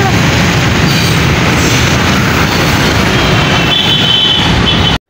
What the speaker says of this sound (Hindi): हम जब अंडरपास के नीचे से गुजर रहे थे तो हमें ट्रेन गुजरती हुई नजर आई।